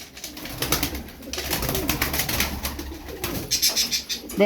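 Ala breed game pigeons coo steadily in a loft, a dense overlapping murmur of birds close by with flapping and rustling, and a few brighter chirps near the end; no one speaks.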